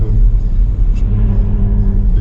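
Steady low road rumble of a car driving slowly in traffic, heard from inside the cabin, a constant deep drone with no talking.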